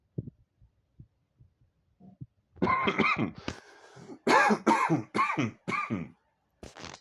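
A series of harsh, bursting coughs, several in quick succession after a quiet start, loud and close.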